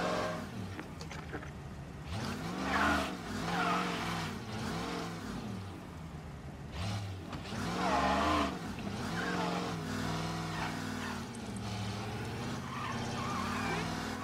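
Engine revving and tire squeals from a V8 luxury car driven in Mafia: Definitive Edition, rising in loud surges with skids, under background game music or voices.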